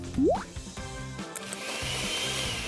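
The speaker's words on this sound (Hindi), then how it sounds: "कोलेजन डालेंगे और इसे ब्लेंड करेंगे।" Electric blender whirring as it mixes a homemade collagen face mask of water and ingredients, a steady motor drone running close and fairly loud with no talking.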